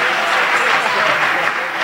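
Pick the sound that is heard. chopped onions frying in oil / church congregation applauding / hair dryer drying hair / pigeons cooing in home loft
church congregation applauding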